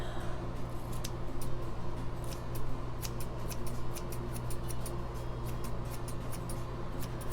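Scissors snipping short pixie-cut hair, a run of quick, crisp clicks repeating at an uneven rhythm over a low steady background hum, close and fairly faint, no talking.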